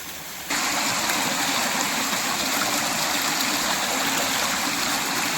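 Naturally flowing stream water rushes steadily in a calm natural setting, a dense continuous wash that jumps to full level after a brief quieter start and then holds loud and close without a break.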